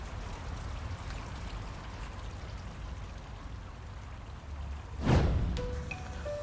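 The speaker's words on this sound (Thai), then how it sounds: "นี่ไงก๊อกน้ำ" Water runs steadily from a tap as a constant soft rushing stream, then a louder splash near the end as the flow hits something.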